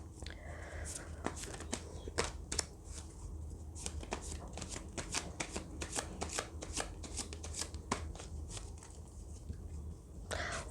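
Oracle cards are shuffled by hand in a steady run of crisp, riffling flicks, close and fairly soft, continuing for several seconds with a quiet background and no clear talk over it.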